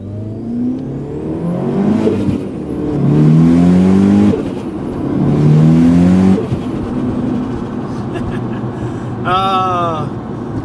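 A DSM car fitted with an HX35 turbo pulls hard on a snowy road, its engine revving up through rising gear pulls with shifts in between, loud and close from inside the cabin, with a brief voice near the end.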